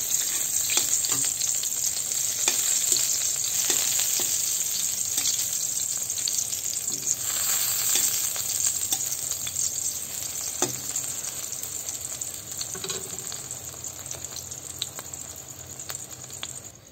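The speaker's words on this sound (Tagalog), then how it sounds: "baliktarin na natin ang talong para maluto naman ang" Eggplant frying in a pan after being flipped, a steady close hiss and crackle of oil with scattered pops, continuing unbroken throughout.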